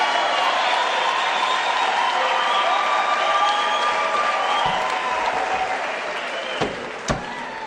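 An audience applauds the first female Vice-Chancellor of the University of South Africa at a closing ceremony, a loud, dense and sustained clapping crowd that fades slightly toward the end, with a couple of sharp knocks near the close.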